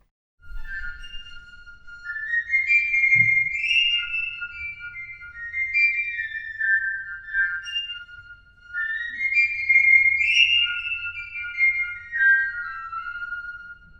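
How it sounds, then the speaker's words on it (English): A piccolo in an orchestra school concert plays high, bright sustained notes in a flowing melodic line, clear and close with no talking. "The much smaller piccolo has a very high pitch, like the little whistle used by sailors on a battleship."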